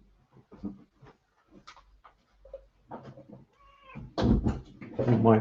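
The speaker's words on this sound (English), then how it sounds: "You might hear some meowing." A cat meows several times nearby, the cries rising and growing louder toward the end, with scattered household bumps between.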